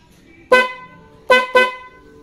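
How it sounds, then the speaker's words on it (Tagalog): Three loud, brassy honks from an aftermarket motorcycle horn on a Suzuki Raider 150: one short blast, a pause, then two quick toots close together, nearby and clear over faint background noise. "loud horn"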